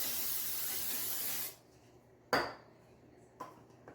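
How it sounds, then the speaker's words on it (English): A steady hissing spray of cooking spray from an aerosol can onto a pan lasts about a second and a half, then stops, followed by two sharp clinks of the pan. "I'm going to start by just spraying my pan real quick."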